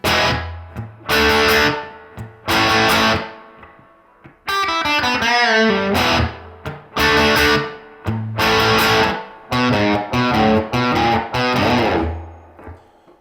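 An electric guitar with distortion plays a riff, loud and close, with heavy chord stabs punctuated by pauses and quick single-note runs, unaccompanied.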